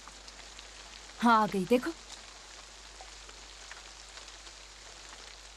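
Heavy rain pours steadily as a broad, even hiss throughout, with brief speech from a woman rising over it near the start.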